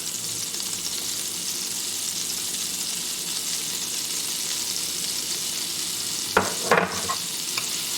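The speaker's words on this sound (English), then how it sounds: "I'm gonna fry these onions in the butter until they're golden brown" Onions sizzle in butter in a pan, a constant close hiss, broken near the end by a couple of sharp scrapes as they are moved around.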